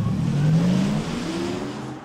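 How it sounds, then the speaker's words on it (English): A synthetic electric car hum from an Audi R8 e-tron, played through a loudspeaker, rises in pitch as the car drives, a smooth whirring tone over road noise, fairly close and steady. "This is what the Audi R8 e-tron sounds like on the road."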